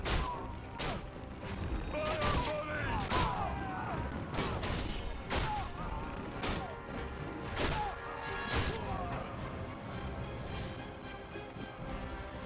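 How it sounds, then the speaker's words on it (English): Arrow volleys fired by archers in the Ryse: Son of Rome video game land as a string of sharp, loud smacks and crashes at irregular intervals over a steady din of battle. "Fire volley!"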